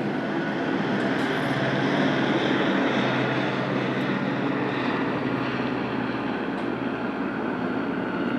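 A helicopter flies overhead, giving a loud, steady broadband engine and rotor roar that holds constant throughout with no one talking.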